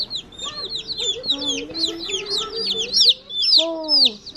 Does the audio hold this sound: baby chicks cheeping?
yes